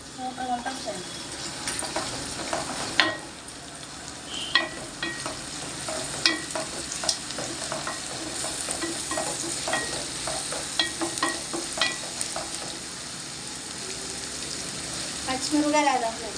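Garlic fries in a pan while being stirred, an even close sizzle broken by sharp scrapes and clicks of the spoon against the metal, with a voice speaking briefly over it.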